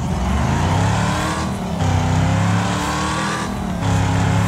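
A race car engine in Wreckfest revs hard and continuously, close and loud, with brief dips between gear shifts and a faint tire squeal.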